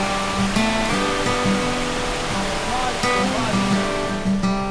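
The third of the seven waterfalls at Villa de Leyva, a loud and steady close rush of falling water that fills the whole clip, with faint tonal sounds and a voice partly buried in the roar.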